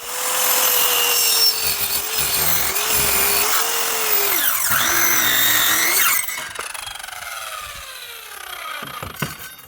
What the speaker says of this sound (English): this particular saw blade is made for cutting like plywood or OSB board, wafer board, stuff like that